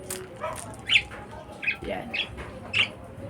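Pet birds squawk in short, shrill bursts spaced about a second apart, with soft wing flapping and rustling close by while someone speaks quietly in the background.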